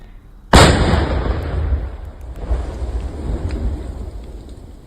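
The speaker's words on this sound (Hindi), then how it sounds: "सुकमा में जवानों को निशाना बनाने के इरादे से IED लगाया गया था, उसे ब्लास्ट कर नष्ट कर दिया गया" A controlled blast destroying an IED planted in Sukma: one sudden loud outdoor boom with a broad rumble that rolls on and slowly fades over several seconds.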